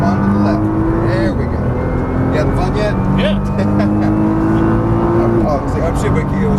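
A Nissan GT-R accelerating around a race track, heard from inside as a loud engine drone that rises in pitch, drops at a shift and climbs again, while an instructor talks over it.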